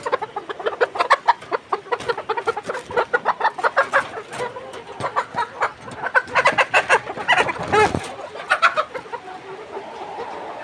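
Layer hens about 123 days old on a poultry farm of some twelve hundred birds cluck in quick, rhythmic bursts, a busy chorus close up with no voices over it.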